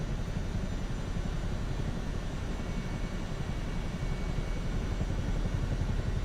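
Steady, loud drone of a Chinook helicopter's engines and rotors cruising at low torque in a flight game, a continuous rumbling hum that holds without a break and with no voices.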